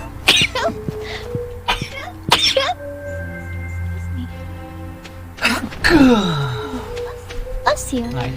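A single sneeze bursts out loudly amid casual talk during a co-op Stardew Valley gaming session, with coughing and throat sounds and people chatting around it.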